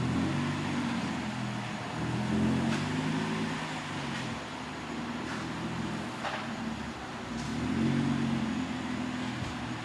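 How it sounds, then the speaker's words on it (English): Nissan 350Z pulled into a garage, its engine a steady low rumble up close that swells slightly twice, with faint ticks and knocks over it and no talk. "let's pull the car in"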